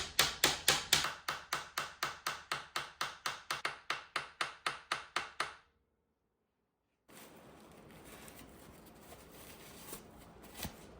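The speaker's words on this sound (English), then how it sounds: "My fancy hammer." Rapid, regular sharp taps from a hammer ring out in a steady rhythm for several seconds, then stop abruptly, followed by quiet room noise.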